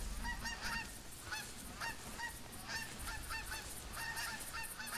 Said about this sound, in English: I have the flock sound effects going off from the geese overhead.